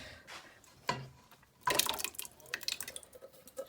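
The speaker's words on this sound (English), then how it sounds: "we're going to add water to our sauce. And we're going to put it in the cans first" Water poured into empty tomato cans while making a light tomato sauce for spaghetti, heard as quiet intermittent splashing and trickling in short bursts, with a louder pour near the middle.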